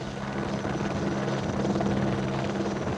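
Helicopter flying over a forest firefighting operation laying hose in rugged terrain, a steady loud rotor drone with continuous beating throughout.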